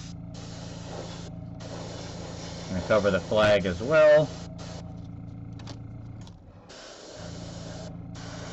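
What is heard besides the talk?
spray painting a miniature figure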